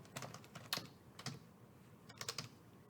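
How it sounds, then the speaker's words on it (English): Typing on a computer keyboard, a quiet, close series of soft key clicks in short irregular bursts with brief pauses, heard alone without any voice. "So let me just type it here"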